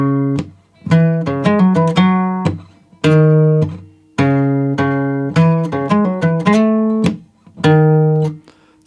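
Electric guitar plays the opening four bars of the verse of a song as a melodic line of single notes and short phrases, some slides and pull-offs, loud and close with no talking.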